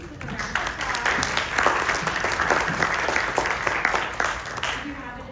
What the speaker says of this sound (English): help me thank these wonderful ladies with a round of applause